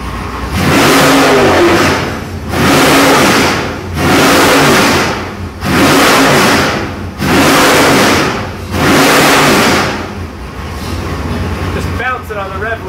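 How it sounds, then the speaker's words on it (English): A Ford 440 V8 on a dyno roars in six loud, evenly spaced bursts, each climbing and holding as it bounces off the rev limiter, with brief drops between. It settles into a steady idle at the end. "Bouncing on the rev limiter, not even just a blip of the throttle."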